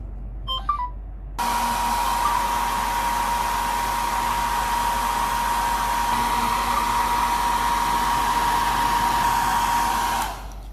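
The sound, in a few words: hair dryer blowing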